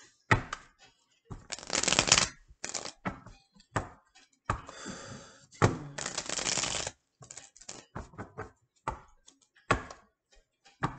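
Tarot cards shuffled by hand before one is drawn, close crisp bursts of riffling and slapping cards in irregular clusters separated by short pauses, with no talking.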